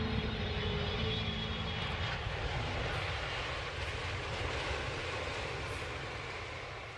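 A steady, loud drone of an airplane engine in the passenger cabin during a five-hour flight, continuous and unchanging throughout.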